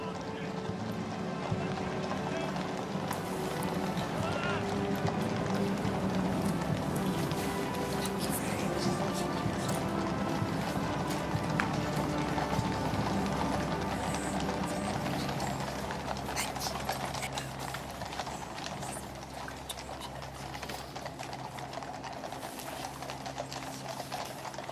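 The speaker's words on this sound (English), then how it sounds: "See that clattering of horses and the jangling of the bridles announcing the arrival of the king" Horses' hooves clatter steadily with jangling bridles in a ceremonial procession at the State Opening of Parliament, a continuous busy outdoor mix with crowd and band ambience underneath.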